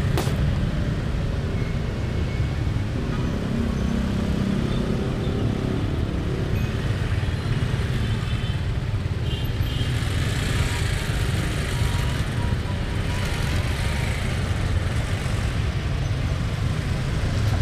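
Heavy traffic jam of cars and motorcycles on a road near Monas in Jakarta during a Lebaran Betawi event: a steady, dense drone of idling and creeping engines close by, continuous throughout with no speech.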